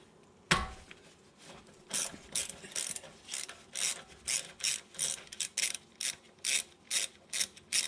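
A ratchet turning a 10 mm socket on a brake hose clamp bolt of a Land Rover Discovery 3 front brake, one sharp knock and then a run of quick, evenly spaced clicking bursts, close and clear.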